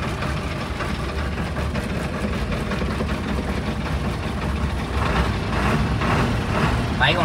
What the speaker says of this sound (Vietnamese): em sẽ đề cho bà con mình nghe âm thanh tiếng máy đó nha